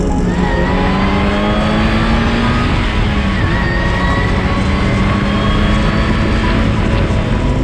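A small supercharged 1.6-litre four-cylinder engine in a Mazda Miata NA screams at high revs on track, a loud, buzzy, continuous drone with shifting pitch and no talking.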